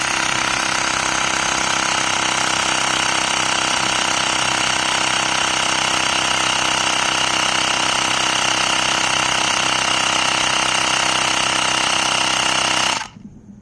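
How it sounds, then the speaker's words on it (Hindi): Mi portable electric air compressor running with a loud, steady buzzing rattle that holds constant before cutting off abruptly at the end. "जो कंप्रेसर चल रहा है"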